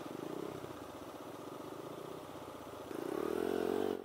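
A nearby dirt bike engine runs at a steady mid-pitched putter while being ridden, then the throttle opens and it revs louder and higher toward the end.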